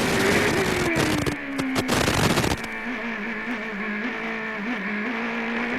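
A CART Champ Car engine screams at high revs during qualifying at the 2002 Grand Prix of the Americas in Miami, then drops pitch and keeps droning steadily as the car speeds along.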